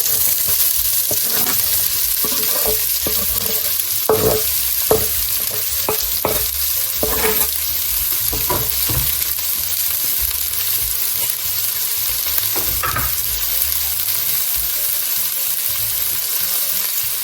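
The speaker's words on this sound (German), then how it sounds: "ein paar Currypeter hinzu und alles gut anbraten" Chopped onions with fennel seeds and curry leaves sizzle steadily in a hot pan, with a spoon scraping and stirring at irregular intervals through the first half.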